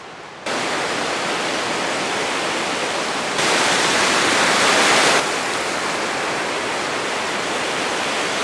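A steady, loud roar of a rain-swollen river rushing fills the scene without a break, swelling briefly louder in the middle.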